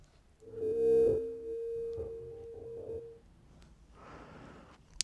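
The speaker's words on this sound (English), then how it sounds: "I wonder why it's reverb feeding back." A Deluge sequencer rings with a sustained, feedback-like reverb tone. The tone holds steady, then breaks into shorter repeating pulses and fades, and a burst of noise follows near the end.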